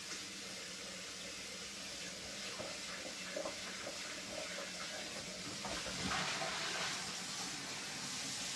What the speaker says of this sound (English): Now we're going to clean and dry the bowl.